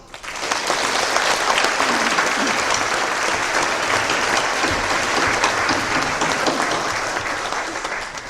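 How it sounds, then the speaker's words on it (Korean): Sustained congregation applause fills a church during a worship service honoring a retiring elder pastor and newly installed officers, a dense, steady wash of many hands clapping for several seconds without speech. "모든 초대받는 분들과 임직자들을 위해서 축하 박수 한번 합시다."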